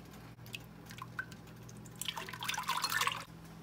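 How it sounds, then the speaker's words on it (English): Milk mixture is poured into a pan of melted butter for chocolate eggnog, making a close, wet splashing pour that lasts about a second after a quiet start, with no talking. "I'm gonna now add in my milk mixture."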